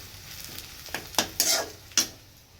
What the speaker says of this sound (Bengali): কড়াই পেঁয়াজ কাঁচা লঙ্কা এগুলো ভাজা হচ্ছে